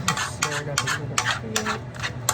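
A spoon scrapes around a pan of homemade potpie filling in quick repeated strokes, about six rhythmic scrapes close to the microphone over a faint sizzle.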